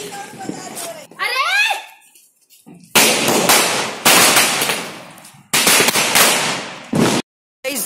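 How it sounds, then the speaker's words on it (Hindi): Diwali firecrackers go off nearby in loud crackling barrages, long rapid strings of bangs separated by short pauses, with a whistling rocket-like sweep early on. "सबसे खतरनाक बम फोड़ रहे अंकल"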